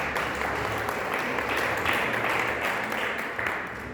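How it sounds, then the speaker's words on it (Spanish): A church congregation clapping together during a service, a steady, moderately distant patter of many hands with a low hum of room noise underneath. "Démosle palmas al Señor, hermanos."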